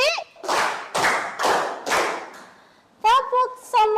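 A class of children performs a rhythmic concentration clap: four loud, evenly spaced group claps, a short pause, then chanted voices with more claps in a quick pattern.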